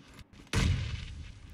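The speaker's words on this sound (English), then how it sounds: "does hear gunshots" A single sharp gunshot cracks out in PUBG during a squads esports grand final, striking suddenly and then fading into a short rumbling tail.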